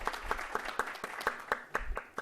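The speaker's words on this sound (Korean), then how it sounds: "뜨거운 박수로 맞아주시기 바랍니다." Sparse, fairly quiet hand claps at a National Assembly health insurance policy talk concert as a speaker is welcomed, distinct individual claps in a roughly regular rhythm.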